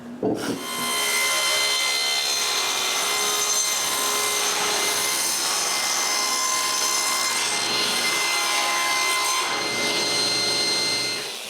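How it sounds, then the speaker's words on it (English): Wooden drawer bottoms being cut on a small workbench built for making bamboo bicycles: a continuous, steady rasping saw stroke, loud and close, running almost without pause, with no talking. "it's time to cut the actual bottoms"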